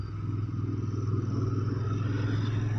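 A Royal Enfield Interceptor 650 parallel-twin motorcycle engine droning steadily while downshifting through the gears, with a pulsing low throb and some mechanical clatter, close and continuous with no talking.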